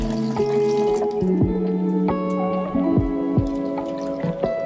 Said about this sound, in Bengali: এবার চালের মধ্যে ওই মশলার জলটা আমি দিয়ে দিলাম।